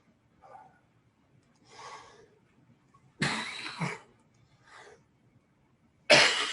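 A person with a tickly throat coughs in a series of bursts, a few softer ones then two loud, harsh coughs close to the mic, with quiet pauses in between.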